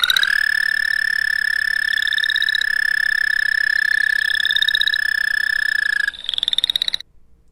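A frog gives a long, steady, high trilling call that continues almost without a break, then stops abruptly near the end, heard alone and up close.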